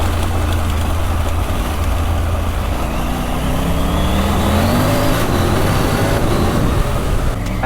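A Triumph Tiger 900 Rally Pro adventure motorcycle on the move, its engine loud and close under rushing wind, pitch climbing in rising sweeps as it accelerates.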